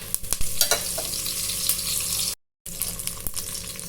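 Curry leaves sizzle in hot ghee with close, crackling spits and pops over a steady hiss, cut by a brief moment of silence.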